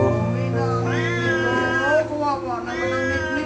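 A cat meows repeatedly in long, drawn-out, wavering cries, up close and loud, over a steady low hum.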